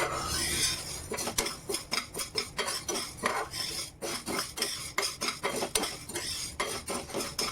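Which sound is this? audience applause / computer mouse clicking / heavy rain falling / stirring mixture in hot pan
stirring mixture in hot pan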